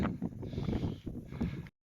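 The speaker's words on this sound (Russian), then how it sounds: "Вот чувствуете, как ветер задувает" Icy wind buffets the microphone in gusty, rumbling bursts on a Black Sea beach at Vityazevo, with a faint hiss behind it, outdoors and close.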